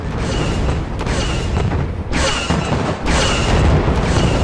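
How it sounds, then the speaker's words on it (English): Loud, rolling explosions from a strafing run in Star Wars Republic Commando, a sustained heavy rumble broken by a few sharp gaps and bursts, close and overwhelming with no voices. "We're coming in for a strafing run."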